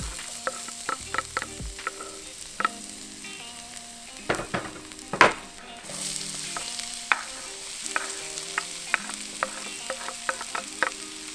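Ground beef sizzles in olive oil in a large wok, a close frying hiss punctuated by sharp clicks and clattering of a utensil stirring against the metal, with no voices.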